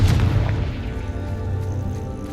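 A Confringo spell explosion in the Hogwarts Legacy video game lands as one loud, deep boom up front and rumbles away slowly over the rest of the clip.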